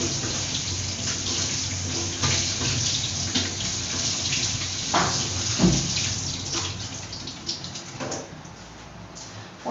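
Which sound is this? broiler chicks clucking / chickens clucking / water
water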